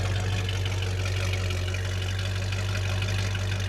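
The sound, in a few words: vehicle engine exhaust idling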